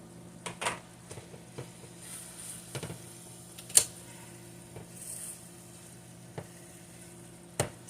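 Leftover stuffed cabbage roll mixture heats in a frying pan with a faint, steady sizzle, broken by scattered soft clicks and taps throughout.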